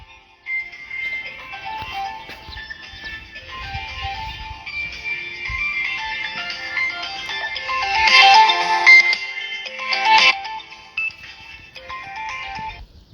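A mobile phone ringtone plays a loud, repeating electronic melody for over ten seconds, swelling brighter toward the end with no talking over it.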